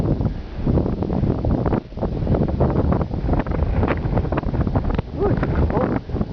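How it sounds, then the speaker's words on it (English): Wind whips through a Wisconsin blizzard, buffeting the microphone in loud, continuous gusts with brief dips, a rough roaring rush close up and alone. "I'm sure you can hear the wind whipping."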